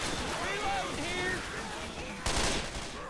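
Gunfire in Left 4 Dead 2 rattles over excited voices, a mix of rapid shots and a sharper burst near the end, loud and close under the chatter.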